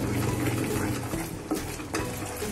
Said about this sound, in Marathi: जोपर्यंत तूप बाजूनी सुटत नाही तोपर्यंत आपल्याला हे असंच ढवळावं लागणार आहे